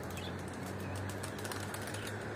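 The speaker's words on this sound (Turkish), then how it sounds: "Bunları böyle kanat çalıştırıyorum ki" Pigeons beating their wings, young birds being exercised by their keeper; a soft, steady flutter of flapping runs throughout at low volume, fairly close, with no talk.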